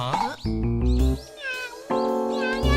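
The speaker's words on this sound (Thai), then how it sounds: "มีน้องเหมียวอยู่ด้วย" A cat meows several times in short, rising tonal calls, loud and close, mixed with animated cartoon voices and background music in a Thai-dubbed animated series.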